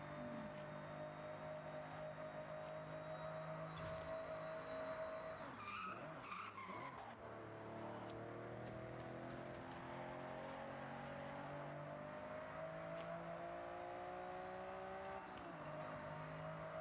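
A B-class car races in the video game Forza Horizon, its engine droning loudly and shifting pitch with gear changes, plus a burst of tire skidding midway through the run.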